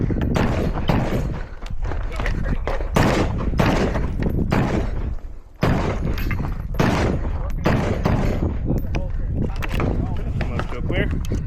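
Rifles fire in rapid strings at an outdoor practical rifle match, with loud sharp shots in irregular bursts close by, interrupted by a brief pause.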